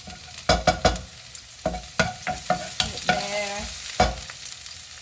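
Garlic hits a hot pan and fries while being stirred for sautéed green beans with ground beef, giving a near, steady sizzle broken by repeated scraping and stirring knocks.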